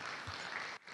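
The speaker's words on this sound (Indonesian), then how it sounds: "Kita berikan tepuk tangan buat Tuhan kita." Church congregation clapping together, a brief burst of dense applause in a worship service that drops away abruptly near the end.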